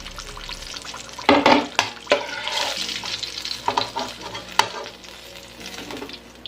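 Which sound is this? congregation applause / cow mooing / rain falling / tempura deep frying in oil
tempura deep frying in oil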